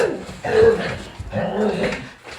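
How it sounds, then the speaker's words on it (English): A corgi barks outside a window, a few muffled, mid-pitched yips and woofs heard through the glass at moderate distance, in two loose bursts. "they're gonna bark at each other at my window for a few minutes"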